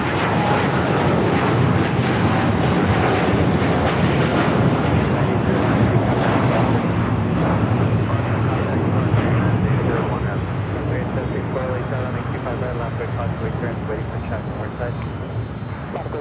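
A United Airlines jet at LAX roars loud and close in a dense, continuous rumble with hissing wind across the microphone, easing slightly in the last seconds while people talk over it.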